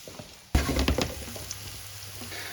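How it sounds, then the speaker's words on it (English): Onions drop into hot olive oil in a pan and start sautéing, with a sudden loud burst of sizzling that settles into a steady, softer crackle. "we're going to saute the onions before we put them into the meatballs"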